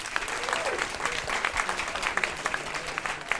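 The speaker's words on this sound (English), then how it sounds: "Thanks for clapping." A live audience at a science show claps together in steady, dense applause, loud and continuous throughout with faint voices mixed in.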